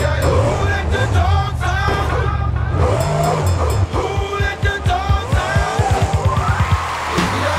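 Monster Mutt monster truck in a BeamNG Drive freestyle competition roars with loud revving engine, its pitch rising and falling through a big air sky wheelie over crush cars, with a commentator talking over it.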